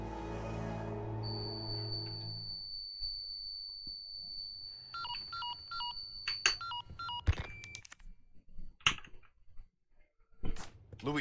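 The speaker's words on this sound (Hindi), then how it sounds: "लुईस, लुईस तेरा फोन है क्या?" A phone rings in the Resident Evil 4 Remake video game, a warbling electronic tone in quick repeated bursts that rises out of droning game ambience and is followed by sharp, scattered clicks and thuds.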